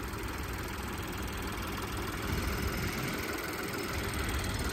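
Small turbocharged engine of a 2023 Chevrolet Trax idling with the hood open, a steady, quiet low hum and faint mechanical whir that stays even throughout with no talking.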